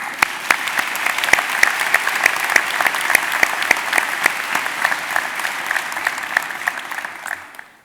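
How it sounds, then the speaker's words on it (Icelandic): Steady applause from a graduation audience in a concert hall, honoring teachers, with a few distinct sharp claps standing out over a dense, even patter that tapers off at the close. "svo mér finnst ég gefa kennurum gott klapp"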